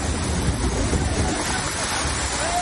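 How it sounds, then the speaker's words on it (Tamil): A flash flood pours over Kondhwal waterfall, also called Pandavkada falls, near Bhimashankar in Pune during heavy rain, making a continuous, dense roar of rushing water that stays steady and fairly loud throughout. "கொந்தவால் அருவியில் 16 ஆண்டுகளுக்கு பின்னர் முதன்முறையாக ஆவேசமாக காட்டாற்று வெள்ளம் பாய்கிறது"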